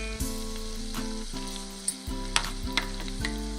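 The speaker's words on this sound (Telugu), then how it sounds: "మసాలాలన్నీ బాగా ఫ్రై అయ్యేంత వరకు ఫ్రై చేసుకోవాలి" Tomatoes frying in a pan with chilli powder, salt, coriander powder and cumin powder, a steady close sizzle broken by several sharp scrapes and clinks of stirring, no voices.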